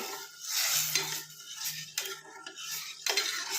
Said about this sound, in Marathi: चरचरीत अशी फोडणी झालेली आहे